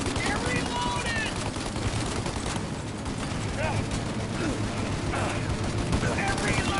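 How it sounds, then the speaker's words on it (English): Dense gunfire in a shootout in the Mafia video game, continuous overlapping bursts and shots filling the scene under a constant din, with voices shouting over it. "Shoot out your gun when there's a break in the fire!"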